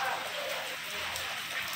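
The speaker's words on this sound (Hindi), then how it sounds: "और एकदम से बारिश आ गई।" Sudden heavy rain pours down in a steady, even hiss with no clear breaks, a dense wash of falling water that stays fairly soft throughout the short stretch.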